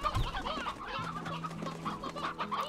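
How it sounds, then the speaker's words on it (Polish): Chickens in the video game Slime Rancher cluck repeatedly in a busy, close, fairly quiet stream of short bird calls, with no talking over them. "Te kurczaki na razie tu wrzucę."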